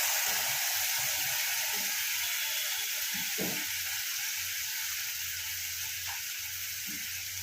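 Dry spices with garlic and a slit green chilli sizzling in a pan after a splash of water is added, a steady hissing fry with a few soft clinks and stirring scrapes, no talk.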